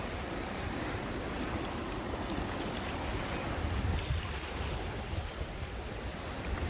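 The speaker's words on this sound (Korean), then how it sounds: "파도가 좀 있으니까 예, 서핑 하시는 분들이 예, 좀 오셨네요" Sea waves roll in on the East Sea coast at Oho-ri, where surfers are out in the swell, giving a continuous broadband wash with a slightly heavier surge midway and wind rushing across the microphone.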